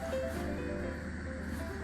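A steady, even hiss of air escaping through the valve of a Naturehike single inflatable sleeping mattress runs unbroken throughout, with a faint low hum beneath it and no voices.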